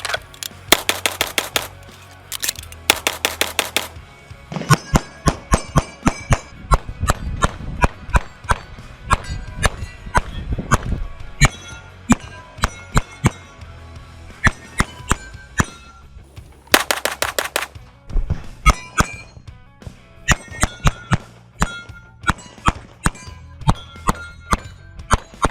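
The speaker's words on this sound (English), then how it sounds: "You didn't come here to watch us shoot this pistol slowly off a rest." Rapid pistol gunfire shot fast rather than slowly off a rest, sharp loud cracks in quick strings and bursts separated by short gaps, with metallic clanks between volleys.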